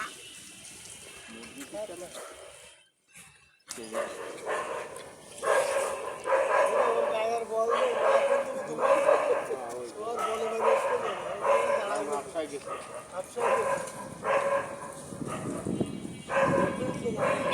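Dogs bark repeatedly at a pond beside a mosque where fish are being caught, the barks coming in bursts over gushing water while people talk nearby.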